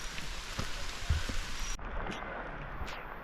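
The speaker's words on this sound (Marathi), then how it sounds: "आणि बघू शकता पाऊस पण आहे आणि धुकं पण आहे" Steady rain falls through mist on a monsoon hiking trail to Bhimashankar, a soft continuous hiss with scattered drops, heard up close and alone.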